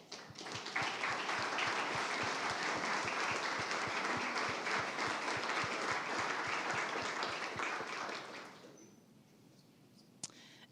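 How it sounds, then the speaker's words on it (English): An audience gives a round of applause to educators at a startup demo day, dense sustained clapping for about eight seconds before fading out into quiet room tone with a single sharp click near the end. "can you stand up so we can give you a round of applause?"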